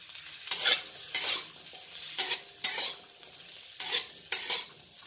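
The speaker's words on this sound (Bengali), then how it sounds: "জুকুনি, যেটা ক্ষীরার মতো পাওয়া যায়, বিদেশি ক্ষীরা বলে, আর গাজর, এগুলো আমি একটু নাড়াচাড়া করে নেব" Zucchini and carrot stir-fried in a pan, with six or seven distinct spatula scrapes at a steady rhythm over a low sizzle, close and clear.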